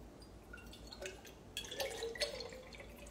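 Liquid poured by hand without a funnel, giving faint close splashing and trickling with a few dripping spurts that build toward the end.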